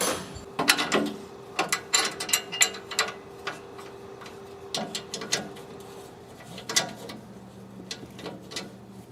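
A wrench ratchets on the exhaust of a leaking Toyota Land Cruiser FZJ80, giving close bursts of quick metallic clicks with brief gaps, while a faint steady hum sits underneath and nobody speaks.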